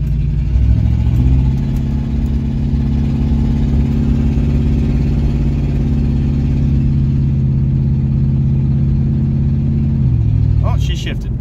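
An Oldsmobile engine pulls steadily under acceleration for about ten seconds, a loud close droning tone, then the transmission shifts as the pitch drops, with voices in the car over the engine.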